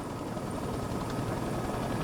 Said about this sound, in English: Helicopters evacuated forces back to Dao Tieng and Tay Nin.